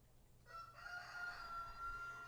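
A rooster crows faintly in the distance, a thin drawn-out call over quiet background hum.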